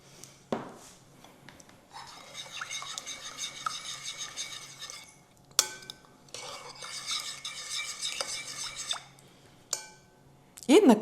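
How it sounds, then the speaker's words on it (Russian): A spoon stirs tomato paste with salt and sugar in a pot, giving two long bouts of close scraping and swishing with metallic clinks on the pot, separated by a short pause and sharp taps. "Перемешиваем тщательно. Для того, чтобы томатная паста хорошо разошлась"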